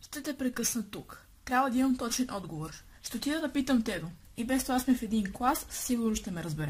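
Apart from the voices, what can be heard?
None of the usual background noises is heard.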